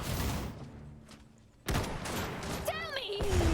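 Gunfire in the mech strategy game Iron Harvest: a sudden loud burst of shots cuts in after a quieter stretch and carries on as dense, rolling fire, with a voice calling out over the noise.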